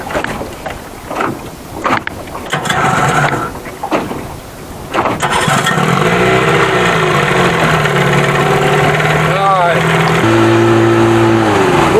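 Evinrude 25 hp outboard motor running on a boat, starting with choppy wind-buffeted rumble, then settling into a steady, loud drone with rising engine pitch and throttle shifts near the end.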